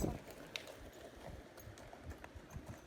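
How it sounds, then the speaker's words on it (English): A confident horse walking in a riding arena past heavy metal sheets, its hooves clip-clopping in a soft, even rhythm at moderate distance, with faint talk in the background. "see how confident this horse is walking out when it's approaching it even"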